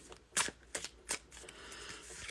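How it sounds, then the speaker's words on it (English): Tarot cards shuffled by hand in a few quick riffling bursts, crisp and close, with a soft papery rustle between them and no talking. "I guess I need to just shuffle."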